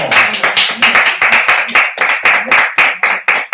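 A handful of people applaud themselves with loud, close claps, sharp and slightly uneven, forming a brisk rhythmic patter with no talk.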